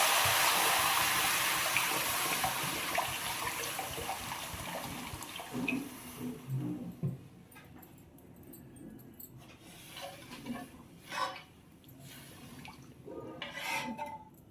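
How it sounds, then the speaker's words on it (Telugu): About three glasses of water pour steadily into a pot for instant noodles for several seconds, then stop, followed by light clinks and handling noises. "దీనికి ఒక 3 గ్లాసెస్ వాటర్ పోసుకోవాలి."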